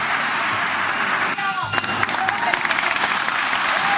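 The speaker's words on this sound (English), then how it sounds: "Give a huge round of applause, audience." An audience applauds at a girls' school annual day fancy dress show, steady, dense clapping sustained throughout at moderate loudness, with a brief shift partway through.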